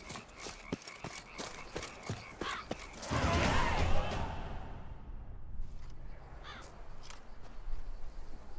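Crows caw repeatedly in The Witcher 3 game world, a string of harsh rhythmic calls in the first few seconds, followed by a louder whooshing swell and fainter scattered caws.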